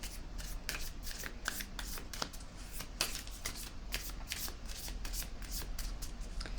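Tarot cards being shuffled and handled, a steady run of crisp riffling snaps and papery slaps, close up with no talking.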